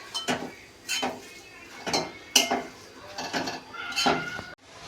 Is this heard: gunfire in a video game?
no